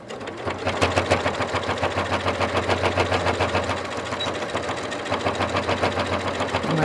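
A sewing machine stitching a fabric bag, running in a fast, steady mechanical rhythm of needle strokes with a low motor hum, close and continuous with a short pause partway.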